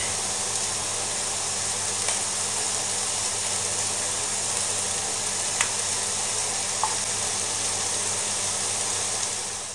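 Kefta meatballs fry in a pan with a steady, even sizzle that carries through the whole stretch, broken only by a couple of faint clicks, with no voices.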